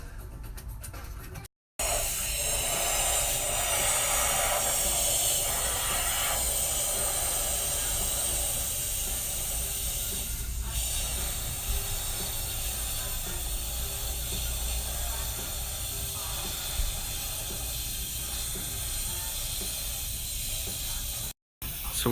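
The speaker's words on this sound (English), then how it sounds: "So we're here getting some giant balloons filled up to supplement the smaller balloons that we have." Giant balloons being filled with gas from a pressurized tank, a loud continuous hiss lasting about twenty seconds, with brief cutoffs near the start and end and faint mechanical clicks underneath.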